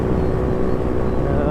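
A Raider 150 fi motorcycle with a fuel-injected engine and a retune rumbles steadily while riding, a loud continuous low drone with a faint rattle running throughout.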